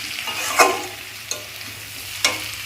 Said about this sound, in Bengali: দেখো কত সুন্দর করে কষাচ্ছি